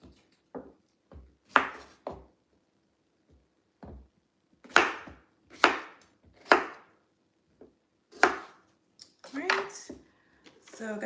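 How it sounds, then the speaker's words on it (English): A manual food chopper chopping vegetables during home meal prep, giving loud irregular thwacks and clacks in scattered bursts with quiet gaps between them. "Does it sound pretty loud, this chopper, for you guys?"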